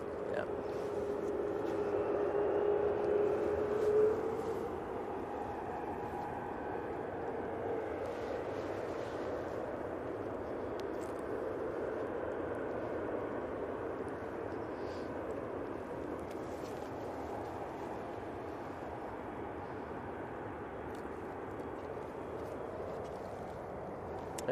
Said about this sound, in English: Etihad 777 out next,